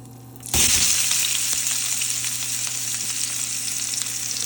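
Loud, steady sizzling of ghee frying in a pan for a home-cooked tuna fish curry, bursting in suddenly after a quiet moment and continuing close up with a bright hiss and occasional stirring.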